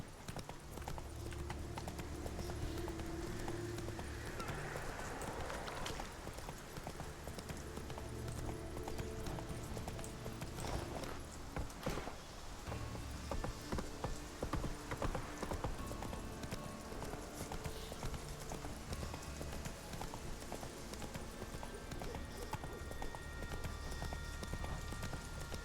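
Roach, Geralt's horse in The Witcher 3, galloping: continuous rhythmic hoof clip-clop at moderate distance under soft game music, with occasional snorts.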